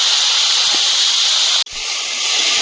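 Potatoes going into hot oil with dried red chili and whole cumin seeds give a loud, continuous frying hiss, broken by a brief drop midway before it resumes.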